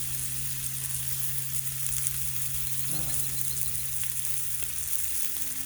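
Thick-cut bacon sizzles steadily on a Blackstone griddle set about halfway up, a continuous close hiss and crackle with no talk.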